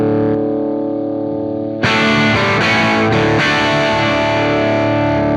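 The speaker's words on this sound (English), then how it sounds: "Put the feedback back in." An electric guitar played through an amplifier with feedback: a sustained distorted chord rings, then breaks into louder, dense, gritty strumming with a high whine running on top, close and loud, with no voices.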